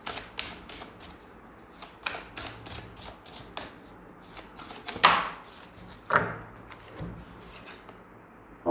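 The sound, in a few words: shuffling a deck of cards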